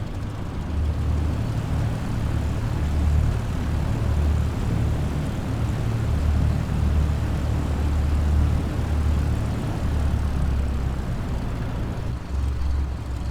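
A general aviation aircraft taxis at Brampton, Ontario, in Microsoft Flight Simulator 2020, with a steady, droning propeller engine rumble that holds evenly throughout and has no voices over it.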